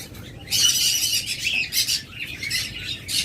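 A close-ringed breeding pair of pet birds gives loud, harsh squawks in several close bursts over a faint steady background, with no voices.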